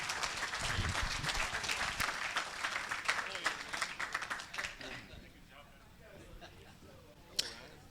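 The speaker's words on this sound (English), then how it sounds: "How about a round of applause for this Indiana auctioneer?" Audience applause for an Indiana auctioneer at an auctioneering college student auction, dense clapping for about five seconds that fades out, then quieter room sound with a sharp knock near the end.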